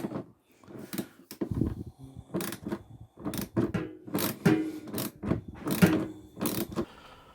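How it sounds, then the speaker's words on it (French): A ratchet wrench loosens bolts on a clothes dryer, giving quick bursts of clicking ratchet strokes in an irregular rhythm with short pauses, close and fairly quiet. "il sort le cliquet"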